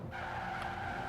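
Continuous tire skid from a Jeep Wagoneer on stock tires drifting in Forza Horizon 2, a steady, close hiss of sliding rubber over engine drone, heard alone.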